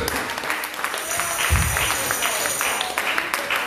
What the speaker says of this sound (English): Come on and clap your hands for Jesus.